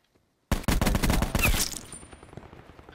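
A light machine gun firing in Call of Duty Blackout, one rapid sustained burst of rattling shots lasting about a second and a half, loud and close, then ringing out into a fading tail.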